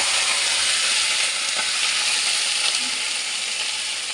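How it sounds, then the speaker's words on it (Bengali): Water hits a hot wok of cumin tempering and erupts into a loud, dense sizzle that hisses steadily and close up throughout, with faint clinks underneath and no talking. "কড়াইতে আমি একটু জল ঢেলে দেব।"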